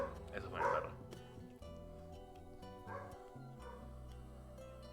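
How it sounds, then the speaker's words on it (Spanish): A pet dog barks and yips a few times at moderate distance, with short bursts clustered near the start and another around the middle, over a steady low background hum. "Eso fue mi perro."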